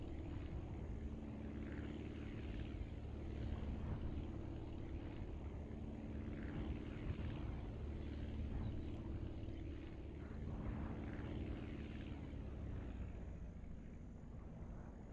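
Steady propeller aircraft engine drone in the flight video game Aviassemble, a continuous close hum that eases down toward the end as the throttle comes back, with no talking.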